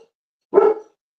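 A neighbour's dog gives a single short, loud bark-like yelp, close and isolated against otherwise silent surroundings.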